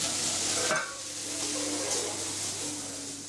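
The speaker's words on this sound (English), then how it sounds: "mushroom and game meat sizzling on the stove" Game meat and mushrooms sizzle steadily in a hot pan on the stove, a close, bright frying hiss with a brief stirring scrape near the start.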